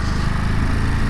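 A 2022 Ducati Monster's engine idles close by, a steady, throbbing low-pitched rumble with a fast even pulse, unbroken for a brief moment.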